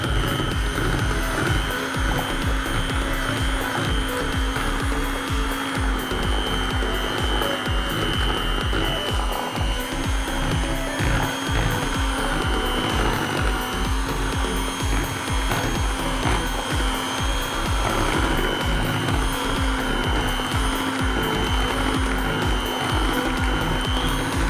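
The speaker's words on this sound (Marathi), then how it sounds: "ऑइल टाकल्यानंतर आपल्याला पुन्हा हे मिश्रण व्यवस्थित मिक्स करून घ्यायचं आहे." An electric mixer whirs continuously and loudly through chocolate sponge cake batter after oil is added, a steady droning motor hum with no breaks.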